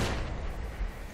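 A grenade exploding in a tactical shooter match, a loud, booming blast that fills the whole moment and rumbles on briefly, with no voices.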